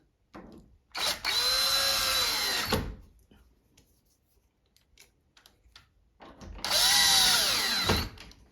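Up close, a power drill drives two screws into a bathroom or bedroom privacy door knob latch, two whirring bursts of about two seconds each, separated by a quiet pause with faint handling sounds.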